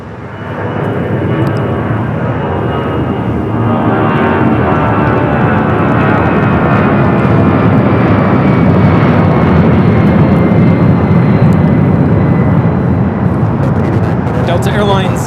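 A sports charter jet airliner at LAX roars loudly and continuously, its engine noise swelling early and then holding as a broad, sustained rush close by.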